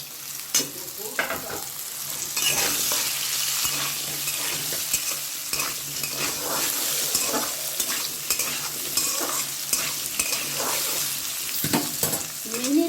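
Diced potatoes with eggplant and flat beans fry in a pan, a constant crackling sizzle broken by frequent spatula scrapes and stirring knocks, close and alone.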